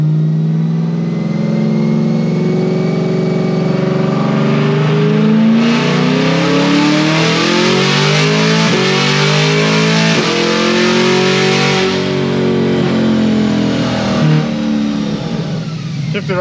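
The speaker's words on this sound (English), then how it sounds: "let's check a little shifting. I'll do a 3-4-5 auto upshift." A car with a cold air intake revs hard through an automatic 3-4-5 upshift, the loud, close engine note climbing in pitch, dropping at each shift and climbing again without pause.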